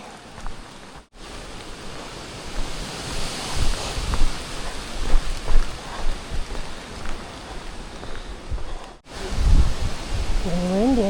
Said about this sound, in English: Getting windy again.